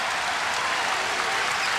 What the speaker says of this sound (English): The SIU crowd gets into it.